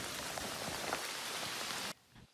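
Heavy rain pours down in a steady, dense hiss for about two seconds in a mountain valley, then cuts off abruptly, leaving only faint background noise.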